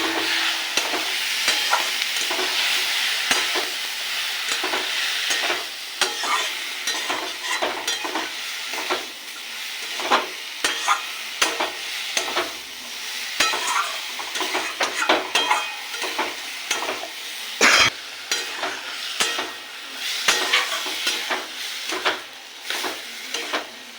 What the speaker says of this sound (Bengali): শুধু কষিয়ে নেব।